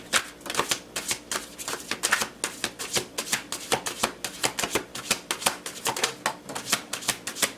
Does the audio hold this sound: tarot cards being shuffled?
yes